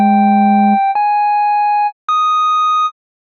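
A synthesized pluck patch, a triangle wave with a sine layered an octave above, plays a low note and then two bright, clean held tones rising in pitch, loud and isolated without any talking.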